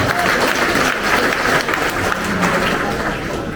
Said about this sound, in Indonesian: Tepuk tangan untuk Jali Purno.